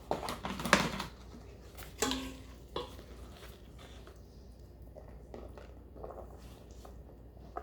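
Spoon scooping linguine pasta into a dish, a few clinks and scrapes early on followed by soft squishy shuffling, close and quiet.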